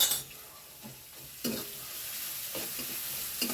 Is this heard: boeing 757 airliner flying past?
no